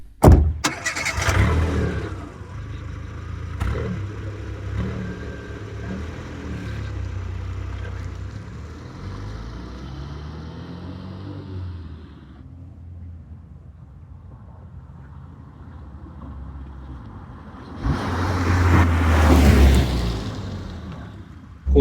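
A first-generation Renault Twingo car driving, its engine hum and road noise steady and close from inside the cabin, with a louder surge of engine and wind noise near the end.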